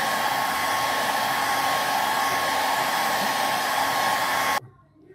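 A hair dryer blows steadily at full power, drying decoupage glue on a glass platter, its loud even whoosh with a faint tonal hum running for several seconds before cutting off abruptly near the end.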